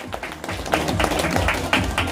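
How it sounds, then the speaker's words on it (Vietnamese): Wedding guests at a Vietnamese wedding ceremony clap in a steady, dense patter of broadband applause, moderately loud and sustained throughout with no speech over it. "cả nhà vỗ tay đi ạ"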